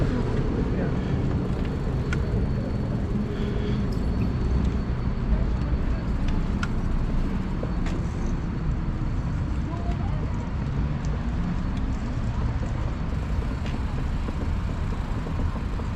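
A busy bus station wrapped in a steady, dense wash of nearby traffic rumble and engine noise that holds at an even loudness throughout, with faint scattered clatter and indistinct voices in the background.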